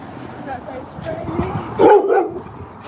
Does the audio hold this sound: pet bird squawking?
no